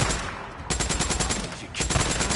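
Light machine gun fire in the video game Days Gone: a loud, rapid sustained burst of about a second, with game ambience before and after and more shots trailing at the end.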